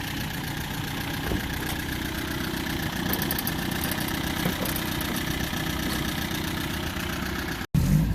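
A small MG TD sports car engine idles steadily and close by, a continuous even mechanical rumble with faint ticking, ending in a brief dropout and a thump.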